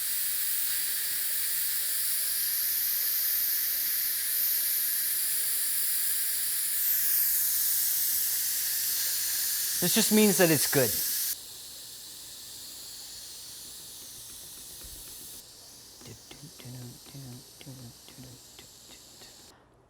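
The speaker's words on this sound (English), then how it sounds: "Just gonna let the steam out." Steam hisses loudly and steadily from a pressure cooker of black bean chili as it is vented, then cuts off abruptly and gives way to softer clatter, with a person speaking briefly over it.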